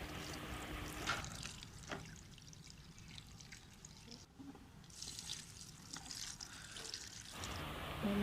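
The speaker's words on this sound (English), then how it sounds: "Let's fill this tub." Water pouring into a tub holding leaves soaking in a chlorine bleach solution, a steady splashing stream that runs through most of the stretch with a brief pause midway, close by.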